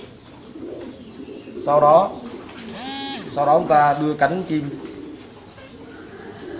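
Pigeons at a pigeon farm, handled for vaccination, give soft, low coos close by, mixed with a person speaking instructions over them.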